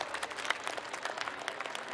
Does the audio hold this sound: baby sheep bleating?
no